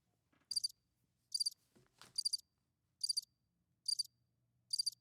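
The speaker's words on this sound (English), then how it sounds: "I'm letting those crickets do their whole thing." Crickets chirp in short, bright trilled bursts, six evenly spaced pulses in quiet surroundings with a faint low hum underneath.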